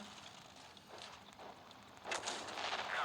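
A few dull distant booms of an MS-1 tank's cannon firing in a video game, followed by a louder burst of blast noise near the end.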